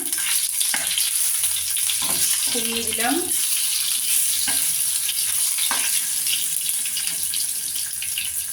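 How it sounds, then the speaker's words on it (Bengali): Tomatoes fry in a pan with a constant hiss of sizzling oil, broken by occasional utensil taps and a short spoken remark. "টমেটোগুলোকে ভেজে নিলাম"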